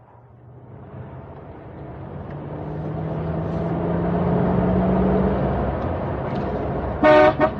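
A car in an audio drama drives along with a steady engine rumble that swells as it passes, ending in two short horn toots, with no talking.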